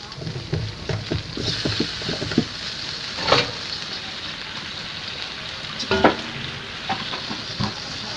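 Chicken feet bubble and sizzle in a sweet spicy sauce in a pan, a continuous crackling simmer broken by a few louder stirring scrapes and clinks, with no talking.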